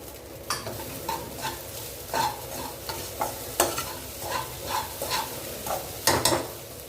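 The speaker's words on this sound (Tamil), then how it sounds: "இப்போ இது வேகட்டும் வதங்கட்டும் பார்க்கலாம்" Sago upma with vegetables such as mango and carrot is stirred and sautéed in a pan, giving a soft continuous sizzle broken by rhythmic scraping strokes about every half second, close and alone.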